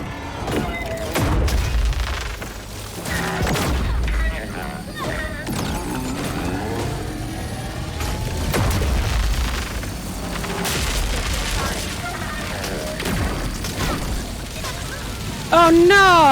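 Gunfire, booms and crashing impacts fill a combat stretch of the video game Grounded, loud and continuous with repeated bursts and whooshes, while a voice speaks over parts of it.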